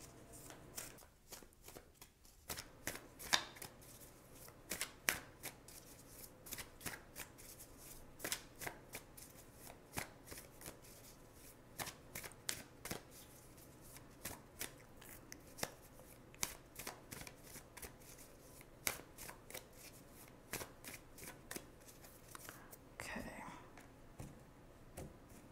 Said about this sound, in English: I've already shuffled these cards quite a bit.